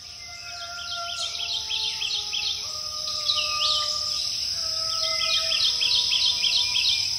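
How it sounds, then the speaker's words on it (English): Neotropical songbirds singing in the Atchafalaya Basin in late spring, several overlapping whistled phrases and chirps over a steady high insect hum, moderately near with a gently rising ambience. "neotropical songbirds are setting up nesting territories here in the basin"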